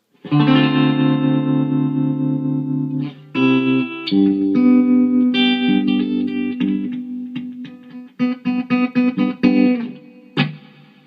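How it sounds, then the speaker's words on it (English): Electric guitar notes and chords pulsing with a wavering tremolo effect from a Boss ES-8 pedalboard preset, sustained phrases broken into rhythmic choppy bursts, played alone with reverb. "The M5 switches to a tremolo sound"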